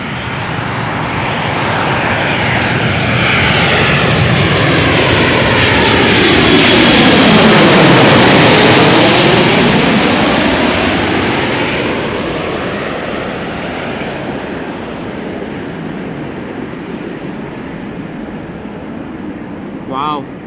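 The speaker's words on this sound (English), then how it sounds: "SkyTeam livery 737-900 arriving from Dublin, Ireland" Boeing 737-900 jet in SkyTeam livery arriving at Amsterdam Schiphol Airport, its roar swelling loud and close as it passes overhead, with a sweeping Doppler shift, then fading into a steady rumble; a voice speaks briefly underneath.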